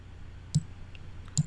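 Two crisp computer mouse clicks, spaced just under a second apart, close and distinct against a quiet background.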